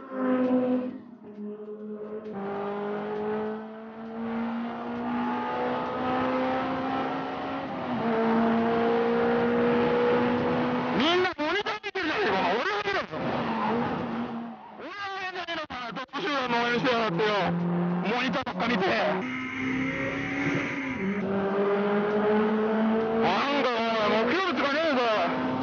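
Toyota Altezza race cars circulate at a racing circuit with a continuous loud engine drone climbing through gear changes, broken by several sharp sweeping pass-bys as cars rush past close by.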